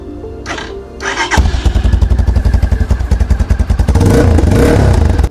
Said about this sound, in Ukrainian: Давайте перевіримо, як він герчить.